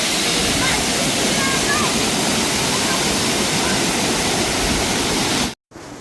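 Waterfall at Talavade in Devgad, running full after rain: a loud, steady broadband roar of pouring water fills the whole clip close up, then cuts out abruptly for an instant near the end before resuming.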